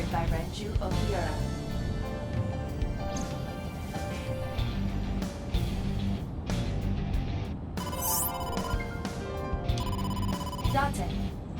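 An incoming call rings on a phone in AI: The Somnium Files, a detective video game, a repeating electronic ring tone over background music, with a brief bright chime partway through.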